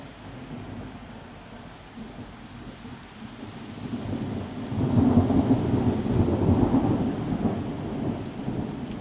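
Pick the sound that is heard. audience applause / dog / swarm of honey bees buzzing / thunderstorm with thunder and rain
thunderstorm with thunder and rain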